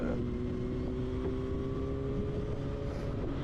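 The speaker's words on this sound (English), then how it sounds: "Luckily in a motorcycle I can kind of zip through the traffic." Motorcycle engine droning steadily while zipping through traffic, a continuous close hum with a faint rising whine and wind rush over the microphone.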